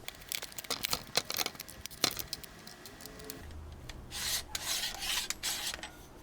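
An extra-large DeWalt trigger clamp is worked close up: a quick series of sharp ratcheting clicks, then soft rasping slides of the bar through the release.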